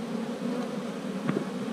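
Honeybees hum steadily inside an opened hive being worked for royal cells, a dense close buzz with a brief louder flare near the end.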